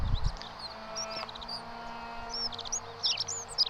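Sparse, fairly faint bird chirps from the video game The Forgotten City drift over a low ambient background, growing a little busier near the end.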